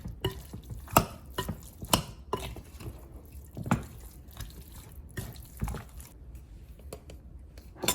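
Chicken wings are stirred and tossed with olive oil and chili powder and other spices in a bowl, giving wet, squelchy mixing sounds in irregular close bursts.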